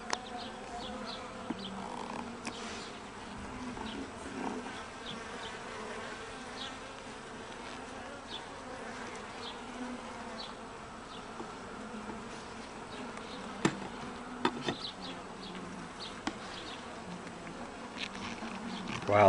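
Carniolan honeybees buzz around an open hive as its frames are pulled apart, a soft and steady drone with a few brief knocks and clicks of handling nearby.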